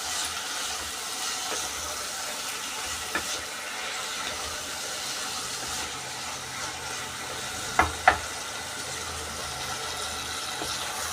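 Fish curry masala sautéing in a pan gives a steady, soft sizzle with faint stirring scrapes, a few sharper clicks near the end, and no voices.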